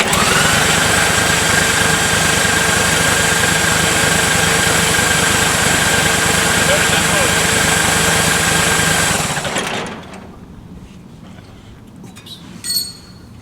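A drag-racing dragster engine fires and runs at a loud, steady roar for about nine seconds, then cuts off abruptly, leaving quieter background with a brief clink near the end.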